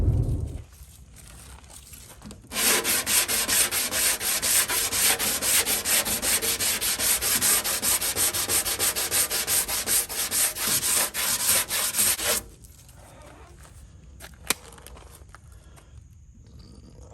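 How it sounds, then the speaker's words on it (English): Car body panel being sanded by hand in a loud, steady stretch of rough, rhythmic rubbing for about ten seconds, with quieter scraping before and after. "I just want it to be known that I hate sanding."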